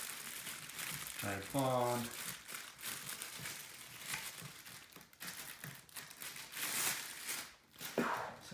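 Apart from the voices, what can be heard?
plastic bag being removed from a tripod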